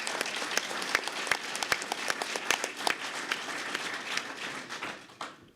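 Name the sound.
conference audience applause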